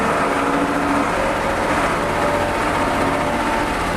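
Backhoe loader diesel engine pulling away after an oil change, a loud steady rumbling drone with broad mechanical noise that holds constant throughout, close and unbroken by talk.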